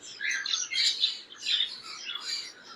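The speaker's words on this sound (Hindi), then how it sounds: "उसके बाद आपको व्हाइट रिंग नेक का रेडी टू ब्रीड का पेयर चेक करवाते हैं।" A pair of white ringneck parrots calling close by, with repeated shrill squawks and chirps in quick overlapping bursts.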